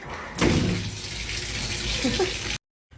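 Water rushes from a tap into a shower basin in an apartment bathroom, a steady close splashing flow that starts abruptly, runs for about two seconds and then cuts off.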